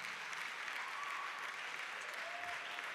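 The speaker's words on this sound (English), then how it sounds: "If you want to clap, you can clap." An audience at the Africa Sings Festival in Asaba claps for a children's choir category performance, with dense, steady applause throughout.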